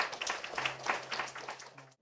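An audience claps steadily for about two seconds at a literary concert to welcome a theatre play team on stage, with indoor applause that stops abruptly at the end.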